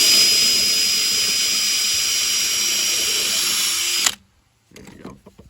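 A power drill bores through a Harbor Freight clamp, a loud, steady high-pitched whine that runs for about four seconds and then cuts off abruptly, followed by faint handling noises.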